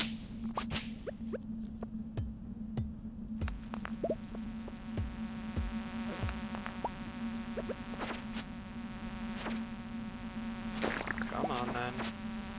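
Flies drone in a continuous low buzz in a game, steady and fairly quiet, beneath a scatter of clicks and short sharp effects.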